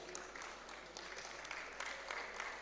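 A hall audience at a university zoology department valedictory programme applauds in a steady, faint wash of many hands clapping, continuous throughout with no speech.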